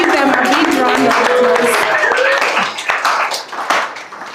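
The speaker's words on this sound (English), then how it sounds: "Let's give them a big round of" An audience at the launch of an apprenticeship program for people with disabilities breaks into dense, loud applause that fills the hall, then thins into scattered claps over a few seconds.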